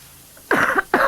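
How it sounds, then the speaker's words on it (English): A single sharp cough, then a second shorter cough after a brief pause, close and fairly loud against a quiet background, during a live stream of Powerwash Simulator. "That was a cough"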